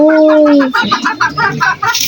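Chickens kept near a pigeon coop, one giving a drawn-out call and then a rapid run of loud, close clucks in an even rhythm.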